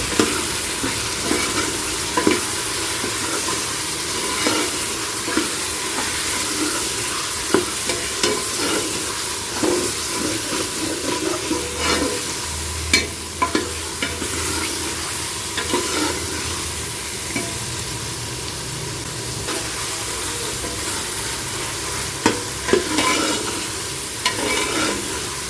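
Ginger garlic paste being stirred into onions and beef frying in a pan, with steady sizzling and repeated scraping stir strokes, close and continuous with no talking.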